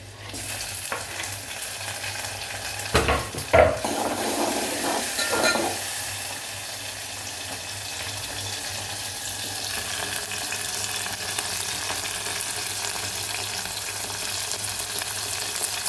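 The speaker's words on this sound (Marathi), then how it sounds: "कांदा झाल्यावर टमाटर टाकते" Onion and tomatoes fry in a pan with a steady, close sizzle; a few louder bursts and stirring scrapes come near the start, then an even hiss continues with no voices.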